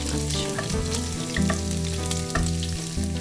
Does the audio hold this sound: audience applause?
no